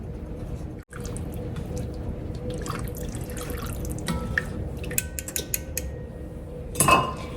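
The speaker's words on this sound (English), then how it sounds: "Make sure you drain all the water off of your potatoes." Water drains from a pot of boiled potatoes being prepared for broccoli cheddar soup, with clinks of pots and utensils, splashing and dripping near a kitchen sink, and a brief louder clatter at the end.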